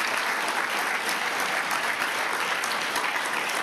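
A gala audience at an annual memorial dinner claps steadily, a dense, even round of applause from a large room, close and sustained with no voices over it.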